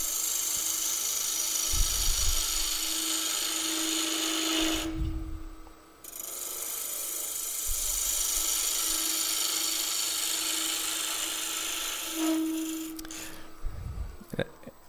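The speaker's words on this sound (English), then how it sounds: "So I'm going to use my beading and parting tool again." Wood lathe turning a pepper mill spigot as a beading and parting tool cuts an arcing cut, heard as a steady high whine with several rasping cutting passes and brief pauses where the cutting stops.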